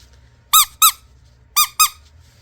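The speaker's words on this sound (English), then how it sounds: "it's got 3 squirrels and their finger puppets, and they have a squeaker in them" The squeaker inside a squirrel finger puppet squeaks four times, close and loud, in two quick pairs with a short pause between them, against near silence.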